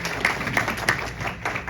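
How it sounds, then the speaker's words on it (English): An audience at a November musical evening claps to welcome a speaker, a police constable. A few sparse, scattered claps come in quick bursts over a low murmur. "So clapping for Mike Fabak."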